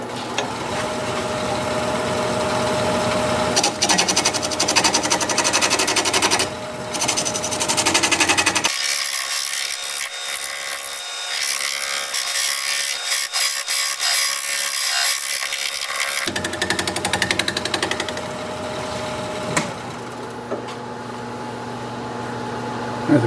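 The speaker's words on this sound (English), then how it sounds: "I'm going to use this scraper to clean that up a little bit." A woodturning scraper cuts a spinning piece of wood on a lathe, with a steady grinding scrape over the running lathe motor across the whole span, and a quieter stretch in the middle where the low motor hum drops away.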